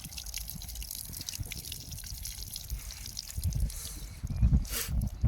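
Water gushes from a village hand pump in a steady splashing trickle with low thudding surges. It is close, with no talking.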